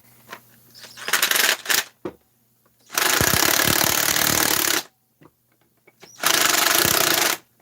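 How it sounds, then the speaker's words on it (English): Pneumatic impact wrench driving a socket on a 660 engine intake, hammering in three loud bursts of roughly one to two seconds each, close up, separated by short pauses with small clinks of the tool and parts. "if you're being impatient, you hit it with the impact"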